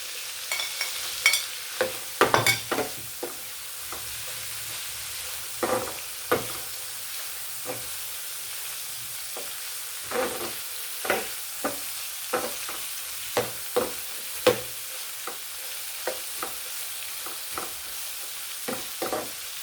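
Onion, capsicum, green chilli, ginger and tomatoes sautéing in a pan for a fish varuval, with a steady soft sizzle under repeated scraping stirs of a spoon against the pan, close and moderately loud, no talking.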